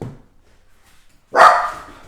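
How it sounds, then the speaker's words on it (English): A dog at home gives a single sharp bark, loud and close, after a brief near-silent pause that follows a faint sound at the start. "my dog started barking"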